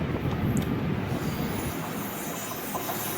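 The Kanyakumari–Pune express passes close by near Neyyattinkara station, a steady rushing rumble of wheels and carriages with faint squealing, heard from aboard a slower passenger train.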